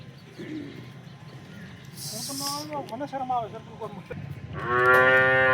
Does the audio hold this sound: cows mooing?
yes